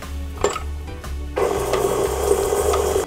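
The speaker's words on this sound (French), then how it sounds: "nous allons mettre déjà en premier le beurre tempéré dans la cuve du batteur et le sucre" Stand mixer beating tempered butter with brown sugar in its bowl: short bursts of motor whir with pauses, then a continuous louder churning of the beater against the mixture.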